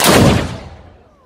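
A single loud blast from a historical artillery cannon in a reenactment booms close by, then its rumble decays and fades over about a second.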